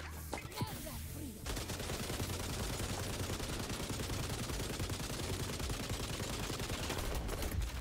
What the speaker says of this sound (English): I just gotta start firing into the barrier at this point here